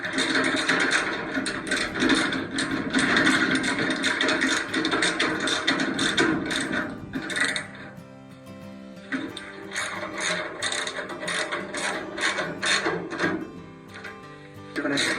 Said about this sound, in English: start to tighten the remaining bolts